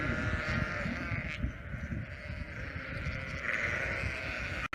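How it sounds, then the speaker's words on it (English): A flock of sheep bleats over and over against a dense, rumbling background, with several animals calling and the sound staying loud the whole time. "Look at all of these sheep."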